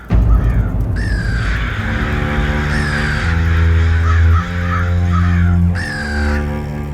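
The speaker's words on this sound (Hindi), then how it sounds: "ये क्या, इतने सारे काक यहाँ क्या कर रहे हैं?" A large flock of crows caws loudly and repeatedly, harsh overlapping calls near at hand, set over a sustained low musical drone with no talking.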